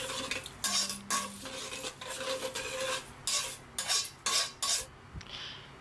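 A spoon stirs seasoning powder into warm water in a cup, clinking against the sides in quick bursts. The metallic scrapes and taps are close and moderately loud, separated by short pauses, and no one speaks.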